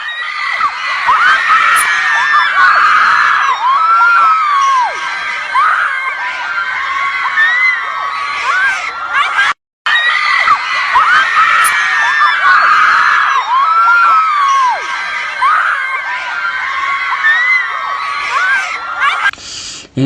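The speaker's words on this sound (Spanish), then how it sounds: "Algunos comenzaron a gritar por el susto." A large crowd screams and shrieks in fright at a holographic devil, a loud sustained wall of high-pitched yelling that repeats after a brief cut.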